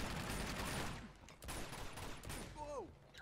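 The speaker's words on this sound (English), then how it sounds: "Oh, great! There's a turret." Gun turret fire in Uncharted 2: Among Thieves rattles in rapid bursts, fairly loud, with scattered impacts and a few brief tonal game sounds near the end.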